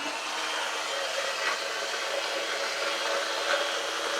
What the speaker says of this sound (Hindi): वैसे इसको डाल के ग्राइंड करूंगी, बाद में मसाले डालूंगी। बहुत ही सही है यार ये वाली मिक्सी